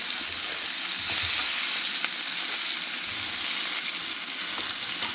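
Loud, steady frying hiss from ingredients cooking in a pan over a gas stove in a village kitchen, with soft low bumps of stirring recurring through the sizzle and no talking.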